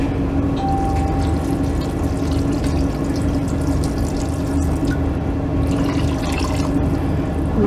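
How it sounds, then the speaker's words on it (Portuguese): One litre of water poured steadily into a pot with meat for a beef macaroni dish, a loud continuous rushing splash that holds at the same level throughout. "Coloquei 1 litro de água."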